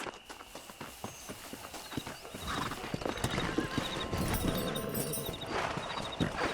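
Horses gallop in Red Dead Redemption, a steady clip-clop of hooves building in loudness with a neigh or whinny mixed in, over a continuous outdoor game soundscape.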